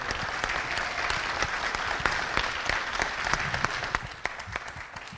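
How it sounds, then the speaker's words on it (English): At a city council meeting, a room full of people applauds for Jennifer Lipp Day, steady mid-level clapping heard from a little distance with occasional crisp individual claps on top. "let's give her a round of applause as well"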